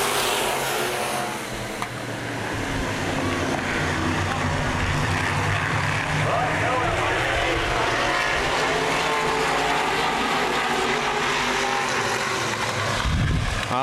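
A field of open-wheel modified race cars roars around Baer Field Speedway during a 2011 feature race, a loud, continuous engine drone that rises and falls slightly throughout.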